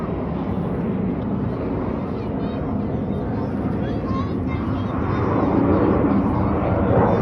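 Red Arrows jets roaring overhead during an air display, a loud sustained engine rush that swells toward the end, with a commentator talking throughout.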